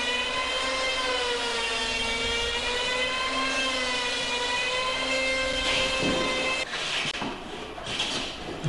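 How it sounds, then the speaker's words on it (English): An electric power planer runs steadily while planing a wooden boat frame, producing a loud, sustained whining drone with harmonic tones, then cutting off and leaving rougher, fluctuating noise near the end. "I'm going to use the power plane here initially."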